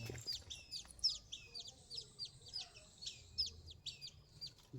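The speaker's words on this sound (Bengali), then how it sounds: "দেখো কত সুন্দর ছোট ছোট দুটো পাখি, হাঁস পাখি" Two small ducks that have come up from the water into a yard give rapid, high chirping calls in repeated quick bursts, fairly faint and steady, with no talking over them.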